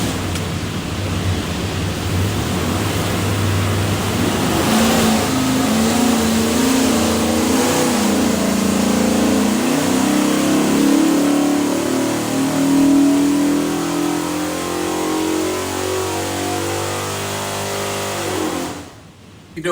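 A 408 cubic inch stroker small-block Ford V8 with a custom hydraulic roller cam and rear-sump oil pan roars on an engine dyno, rising steadily in pitch under load before cutting off abruptly near the end.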